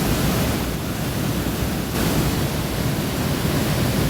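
Powerful rushing water roars in a broad, steady wash at close range, loud and unbroken, with no voices over it.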